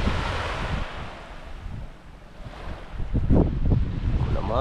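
Sea waves wash steadily against the shore in a broad, continuous roar, with gusty wind buffeting the microphone and a brief louder surge near the end.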